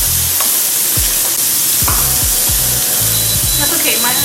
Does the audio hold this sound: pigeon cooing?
no